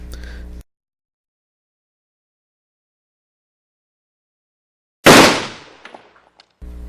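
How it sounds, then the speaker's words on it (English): A single loud explosion set off at a canyon campsite in the morning on a backpacking trip bursts out of silence with a sharp crack and a long fading rumble. Brief voices sound at the start and the end. "managed to get us out of bed early with a rousing explosion"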